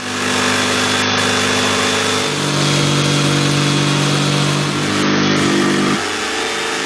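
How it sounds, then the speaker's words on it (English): A jigsaw cuts a hole out of a wooden board while a cornhole game is built, its loud steady motor buzz running nonstop close up, with a slight change in pitch partway through and a drop near the end. "we can sit our jigsaw inside and then cut around it"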